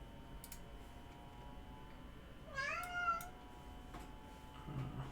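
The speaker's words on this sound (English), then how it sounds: "Sorry, cat's meowing." A pet cat meows indoors, a drawn-out rising-and-falling call at moderate distance over a steady low background hum, followed by faint ticking and a soft rustle.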